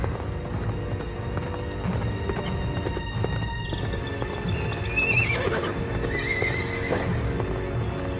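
A horse whinnies loudly over steady clip-clopping hooves, with a continuous busy background throughout.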